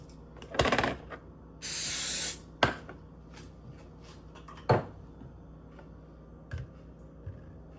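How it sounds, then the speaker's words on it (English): A single short hiss of cooking spray lasting under a second, close by, sprayed into a KRUPS egg cooker, amid a few clunks and knocks in a quiet kitchen. "I'll put spray on it."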